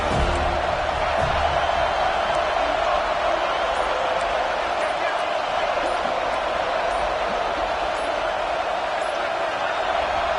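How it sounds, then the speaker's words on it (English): A football stadium crowd roars in a loud, steady, dense wash of voices during a college game, while an announcer talks over it. "This crowd rising up, sensing that its defense needs some help."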